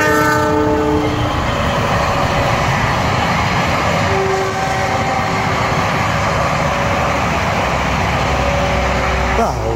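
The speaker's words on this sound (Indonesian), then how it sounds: "Kereta lewat, Bro." A train rumbles past close by with steady loud wheel noise, a horn sounding at the start and again near the end.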